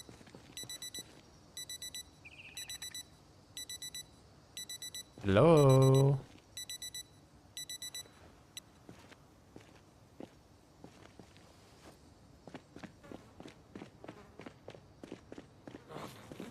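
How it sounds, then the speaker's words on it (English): Digital wristwatch alarms from Project Zomboid beep in short repeated high bursts, several watches sounding in rhythmic groups, with a brief voice calling out, scattered footsteps and clicks in the game mix. "I love having 1 million watches with 1 million alarms."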